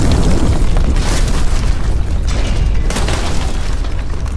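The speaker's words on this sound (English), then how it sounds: "until you guys hear a massive explosion" A massive explosion sound effect rumbles as a loud, continuous, noisy boom with deep low-end roar and bursts of crackling debris throughout.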